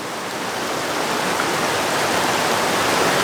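Creek flowing through a huge natural bridge tunnel makes a steady, loud broadband rush of water that swells slightly over a few seconds, with no voices.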